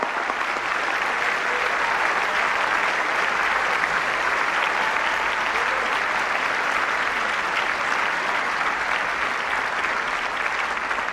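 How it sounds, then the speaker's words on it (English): Sustained, loud audience applause fills a banquet hall at the 2016 White House Correspondents' Dinner, an even roar of clapping without a break and no speech. "Please give them a big round of applause."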